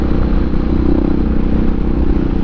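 Steady, loud motorcycle engine drone from a ride along tightening roads, with an even mid-range hum and rattling texture holding constant throughout without talk.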